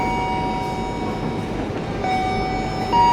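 An Argo Anjasmara train of stainless steel executive carriages passes at Solo, a steady loud rumble of wheels and carriages holding through, with a brief whistle-like tone near the end.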